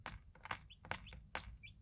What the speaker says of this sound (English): it's nice to hear they're just little chirps